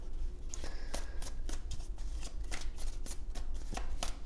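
Tarot cards being shuffled in a steady run of crisp riffling and slapping card sounds, close and fairly quiet, with no talking.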